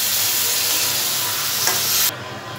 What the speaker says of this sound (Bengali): ভালো করে একটু মশলা দিয়ে সমস্ত কিছু দিয়ে একটু কষে নিলাম।